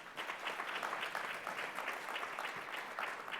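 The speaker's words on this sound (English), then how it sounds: "Please give them a round of applause." Conference audience at a digital marketing summit applauding steadily, a dense, continuous crackle of many hands clapping in a hall, moderately distant and without voices over it.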